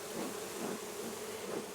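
Honeybees hum around an open WBC hive on a farm, a soft continuous buzzing drone with gentle swells, faint and steady throughout.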